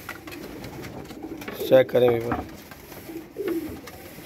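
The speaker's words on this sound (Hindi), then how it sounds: "कबूतर आपको दिखा रहा हूँ" Pigeons coo in short low bursts from a home loft, the calls near and moderately loud beside a voice talking over them.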